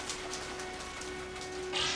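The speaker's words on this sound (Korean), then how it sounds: "창밖으로 비가 억수같이 쏟아지고 있는 거예요." Heavy rain pours steadily outside a window, a constant dense hiss with no breaks, fairly quiet overall and swelling slightly near the end.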